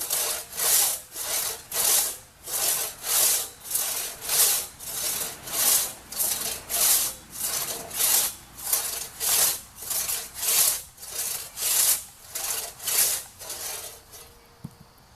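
A sharp one-man crosscut saw works through a log in steady back-and-forth strokes, about twenty evenly spaced rasping pulls close up, each stroke taking a chip, with no talking.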